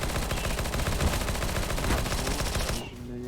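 Video game gunfire plays as rapid, dense automatic bursts with overlapping shots, loud and continuous. It cuts off abruptly near the end into a quieter tail.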